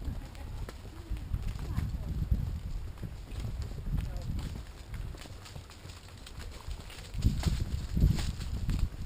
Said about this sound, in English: Both of Heidi's horses are slow.